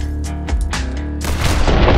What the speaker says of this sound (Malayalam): Short gun.